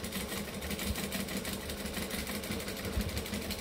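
A sewing machine runs steadily while stitching and back stitching a tote bag, giving a fast, even mechanical whir with a rapid needle rhythm close by and no talk.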